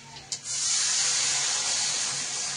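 Water poured into a hot pan of fried onions and mustard seeds erupts in a sudden loud hiss of steam, then holds as a strong, even sizzle close by.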